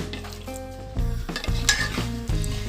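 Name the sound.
stirring dried shrimp and jackfruit seed curry in a pot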